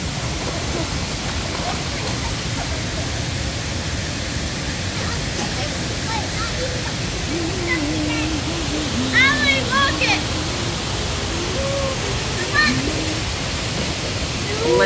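Steady rushing water flows continuously, with scattered bird chirps and faint voices mixed in.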